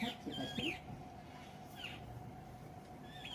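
A dove (ghughu) calls faintly from a rooftop terrace garden in the rainy season, with a few short, soft calls spread over a low, steady background hum.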